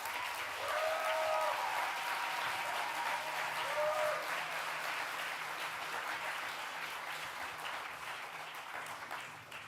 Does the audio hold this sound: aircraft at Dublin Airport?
no